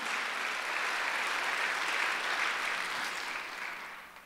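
A church congregation at a Sunday worship service applauding hard together, a dense steady clatter that swells and then fades toward the end.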